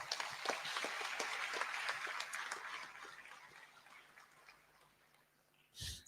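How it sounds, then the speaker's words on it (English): A small crowd claps for several seconds at an induction ceremony for newly qualified medical and dental practitioners, the applause fading out gradually, followed by a brief faint thump at the end. "I think a round of applause is in order."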